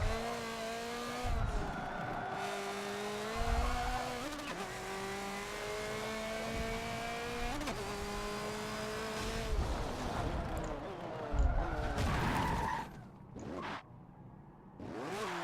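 A race car in the Forza video game slides and wrecks in a chicane during an endurance race. The engine revs hard through gear changes with tyre squeal, then a burst of harsh impact noise as the engine note drops away near the end.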